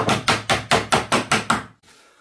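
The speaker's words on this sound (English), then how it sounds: "And just a hammer." A hand hammer strikes seven times in a quick, even rhythm, each blow loud and sharp with a short ring, while antique wall panels are fitted.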